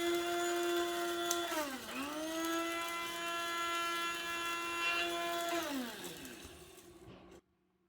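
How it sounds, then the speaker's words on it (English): A small electric spice grinder whirs steadily at a high pitch while grinding black pepper, briefly dipping and recovering, then winding down and cutting off near the end. "coffee grinder that is, we strictly use this for spices in our house"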